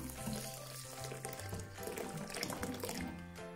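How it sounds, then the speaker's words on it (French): Boiling water is poured over bulgur in a kitchen, making a steady close splashing and trickling flow that runs unbroken for a few seconds with no talk over it. "on va mouiller le boulgour avec de l'eau bouillante."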